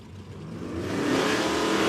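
A nitrous-fed no-prep drag racing car at Warwick Dragway, Australia, its engine note building and rising steadily in a loud, swelling roar as it accelerates over two seconds.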